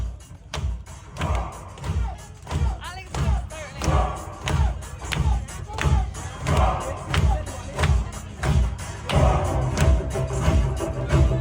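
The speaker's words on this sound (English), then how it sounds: "Big applause, everybody clap your hands" Crowd at a lively hosted party claps in a steady rhythm, with loud, even beats repeating about every second over a dense background of voices and music.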